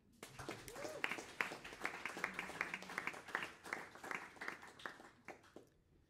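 An audience applauds at a bachelor's graduation jazz concert in a Hamburg jazz hall, a fairly quiet burst of scattered, uneven hand clapping with a voice briefly audible near the start, fading out toward the end.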